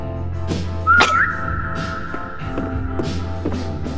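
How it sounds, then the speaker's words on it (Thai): A person whistles inside a survival game set in an endless IKEA store. A single quick rising whistle lasts about a quarter second, close and fairly loud over steady game ambience. "ผิวปากนี้"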